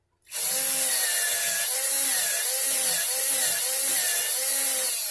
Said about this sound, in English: Want to keep your drill straight with the angle of the headstock so it drills it through straight